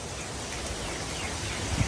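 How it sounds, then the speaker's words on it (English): Steady rain falls outdoors as a dense, even hiss that stays constant throughout with no breaks, loud and close. "The rain."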